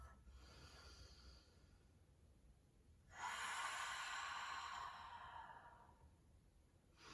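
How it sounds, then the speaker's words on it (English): A soft, breathy exhale through the mouth, a single cleansing breath during a slow hip-opening flow, rises suddenly and then trails away, close and quiet. "you start to find some cleansing breaths by releasing your exhale through your mouth"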